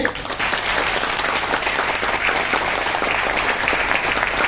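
Loud, sustained applause from a large crowd at a training event in a hotel in Ahmedabad, dense steady clapping filling the whole stretch without pause.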